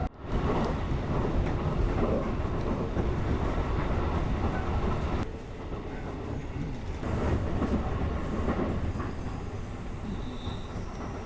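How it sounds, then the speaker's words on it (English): A Keio Inokashira Line commuter train near Tokyo rides the rails with a continuous rumbling roar and faint wheel clatter, a brief dip midway, heard from inside the carriage without talk. "we took the train out there"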